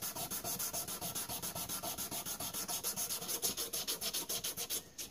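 A knife blade is sanded by hand on 320 grit sandpaper in quick, even back-and-forth strokes, about four per second. The rasping is close and steady, with no voices.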